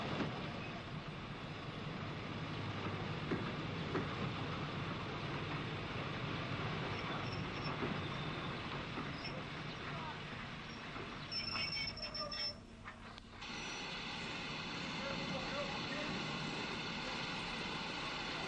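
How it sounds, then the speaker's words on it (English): An Irish narrow gauge train of Arigna coal wagons and a brake van rolls past near Belturbet, with a continuous rumble of wheels and high squealing from the rails, heard steadily throughout. "The tail of wagons of Arigna coal and the brake van follow the passenger coach."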